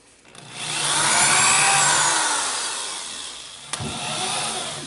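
A power drill whirs as it bores a hole for a cabinet door hinge, rising and holding for a few seconds before winding down, followed by a sharp knock.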